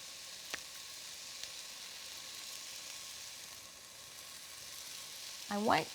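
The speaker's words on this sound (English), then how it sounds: "I do want to give the bacon a little stir. So all of the bacon hits the heat of the pan." Bacon sizzles steadily and quietly in a hot pan with a soft, constant crackle, then a brief scrape near the end as the strips are stirred around.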